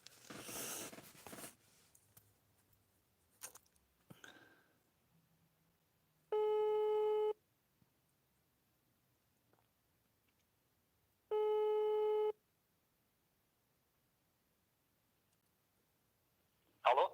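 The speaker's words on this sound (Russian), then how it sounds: "Звоним. Громкая связь." Phone call placed on speakerphone: two long, steady ringback tones a few seconds apart, clean and electronic, with faint clicks and handling noise around them.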